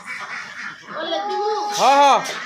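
Ducks on a farm of about 250 birds quack loudly and close, several harsh calls bunched toward the end, with a voice speaking over them.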